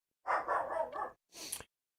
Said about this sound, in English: that's Bear barking in the background